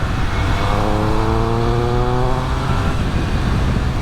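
A 2021 Triumph Speed Triple 1200 RS engine revs hard and loud, its pitch climbing steadily through the gears in a continuous close roar without pause.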